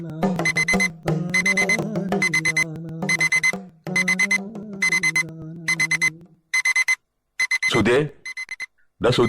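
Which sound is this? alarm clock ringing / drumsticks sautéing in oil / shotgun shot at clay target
alarm clock ringing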